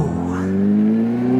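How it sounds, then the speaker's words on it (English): A motorcycle fitted with a Moriwaki slip-on exhaust revs on a night ride, a loud, close engine note climbing steadily in pitch, with no voices. "I just put my new exhaust on from Moriwaki."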